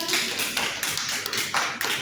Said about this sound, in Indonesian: Kita sama-sama tepuk tangan ya.